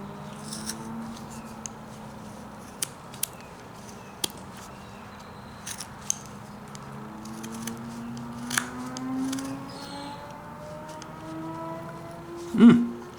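Scissors snip in sparse, sharp clicks while trimming a hardened leather roughout, with soft handling rustle between cuts and one louder snip near the end.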